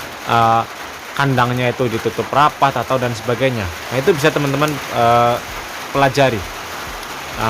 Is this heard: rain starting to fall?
yes